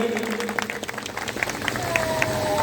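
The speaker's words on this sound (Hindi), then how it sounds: "जोरदार तालियां हो जाए वीरांगना के लिए" A crowd claps for a heroine at a memorial unveiling ceremony in Hukampura, the applause steady and moderately loud, with voices talking through it.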